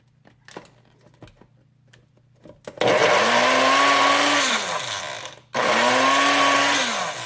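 A Baby Bullet personal blender whirs loudly in two pulsed bursts separated by a brief pause, motor pitch dipping as it works; faint clicks before it starts.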